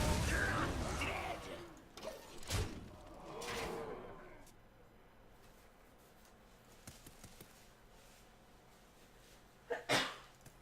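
A single sharp sneeze bursts out near the start, followed by breathing and quieter sounds, with a second loud burst near the end.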